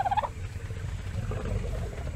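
Short gobbling, turkey-like squawk of a dodo from the ARK Survival Evolved video game, a brief bird call at the start followed by low game ambience.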